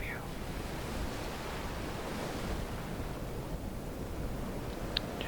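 Steady ocean surf washing onto the shore, a broad continuous rush that swells and eases, heard alone at moderate level with wind-like hiss and no talk.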